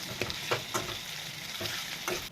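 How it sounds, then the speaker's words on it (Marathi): Tomatoes and onions stir-fried in a pan, soft steady sizzling with a series of quick spatula scrapes at an uneven rhythm, heard fairly close. "या टमाटरांना छान असं परतून घ्यायचं आहे"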